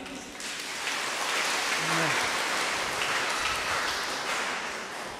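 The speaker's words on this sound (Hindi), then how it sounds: "जोरदार तालियां बजा दें" Church congregation applauding at a harvest festival celebration, a dense steady wash of clapping filling the room for several seconds, with faint voices underneath.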